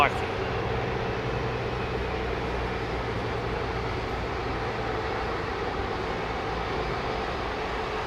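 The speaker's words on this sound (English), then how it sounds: "So QF10 is going to lift off and become visible right the way down there." A Qantas airliner, flight QF10, taking off from runway 09R, heard as a steady distant engine roar that stays even throughout, with voices talking over it.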